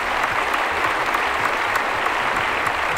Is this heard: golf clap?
yes